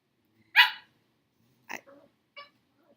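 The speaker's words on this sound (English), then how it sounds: "Those are my dogs, I am sorry." Dogs bark indoors in a few sharp, separate barks: one loud bark, then a quieter pair and a faint final yip, each short against otherwise quiet room sound.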